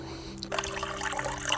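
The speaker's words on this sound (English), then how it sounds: "when the sun shines, the little pump does actually blow" A small solar-powered pond pump spraying water into a barrel, a brief splashing, trickling spray that starts up after a short quiet moment and continues close and steady.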